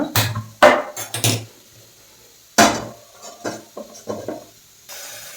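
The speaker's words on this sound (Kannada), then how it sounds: "ಒಲೆ ಮೇಲೆ ಒಂದು ಪಾತ್ರೆ ಇಟ್ಕೊಳ್ಳೋಣ" A metal pot clanks and clatters in a few sharp knocks, then scrapes lightly as it is set down on a stove, while making dal rasam.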